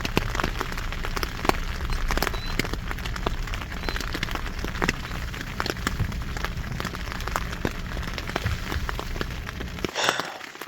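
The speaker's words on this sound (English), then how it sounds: "now it's about 2:45 a.m. and the rain has been pretty steady" Steady rain patters on a tent at night while camping, a dense, even crackle of drops close by with occasional louder taps, continuing unbroken until a brief rustle near the end.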